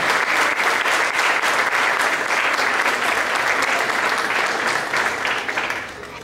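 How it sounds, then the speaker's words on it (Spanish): A symposium audience gives strong, sustained applause, a dense wash of many hands clapping together that holds steady for several seconds before fading at the end. "Despedimos con un fuerte aplauso por último."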